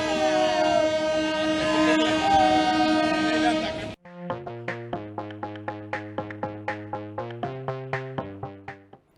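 The Godavari Express passenger train sounds a long, loud horn blast, then its wheels clatter past in a fast, regular rhythm of sharp rail-joint knocks, close by and with no talk.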